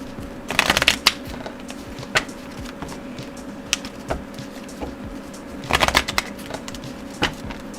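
Tarot cards are shuffled by hand close by, with two quick riffling bursts separated by scattered taps and light card snaps over a steady low hum.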